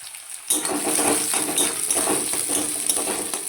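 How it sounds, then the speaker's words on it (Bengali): Onion, garlic and dry chilli frying in a pan, with a steady close sizzle that starts abruptly after a brief quiet moment and continues with soft scraping and stirring clicks. "এইগুলো একটু ভালো করে ভাজা হয়ে যাক"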